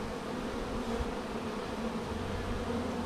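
A swarm of bees buzzes steadily and densely around close by, a continuous hum with no voices, while the beekeepers check whether the cluster is still gathered.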